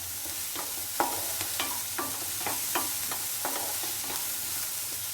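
Onions sautéing in a pan for chilli egg, a steady sizzle with regular light scrapes and taps of a spatula stirring, close and clear with no talking.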